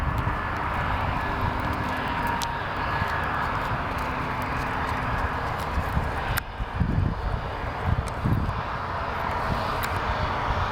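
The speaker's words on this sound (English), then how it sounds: "here we have our Delta 757" A Delta Boeing 757 airliner on the runway gives a steady, broad jet engine roar heard from a distance, with brief rustling bumps partway through and no talking.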